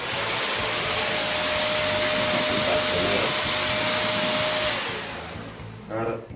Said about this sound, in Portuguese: ela não faz muito barulho para um aspirador dessa potência